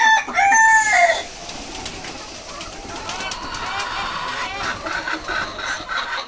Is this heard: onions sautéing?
no